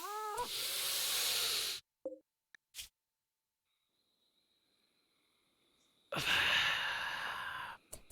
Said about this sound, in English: Actual cat.